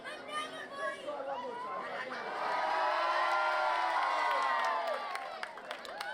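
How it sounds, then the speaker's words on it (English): Pro wrestling crowd in Nicosia, Cyprus jeering Joseph Conners, a dense mass of voices that swells to a sustained loud roar in the middle and eases off, with chatter and scattered shouts mixed in. "Connors getting booed here again."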